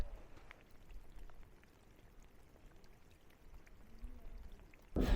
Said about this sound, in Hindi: ये इस कदर बारिश हुई है और मुसलसल अभी भी हो रही है बारिश